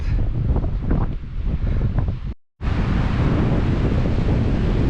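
Loud, rushing wind buffeting the microphone over a roar of ocean surf on the coast of Galicia, Spain, broken by a brief cut-out of silence midway.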